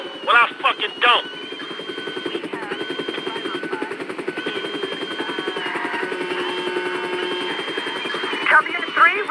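A police helicopter in the video game GTA 5 gives a steady, droning rotor hum through the whole stretch, with voices talking over it and a few short sharp bursts near the start and end.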